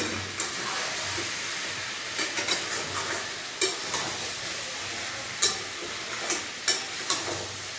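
Spiced potatoes and mutton sizzling in a hot pan, with a spatula scraping and stirring in irregular clinks over a constant frying hiss, close and fairly loud, no talking.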